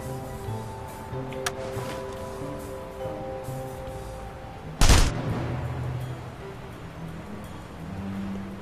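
A gunshot from The Saboteur video game bursts out once near the middle, sharp and loud over a steady background of game ambience and engine-like rumble, with no talking.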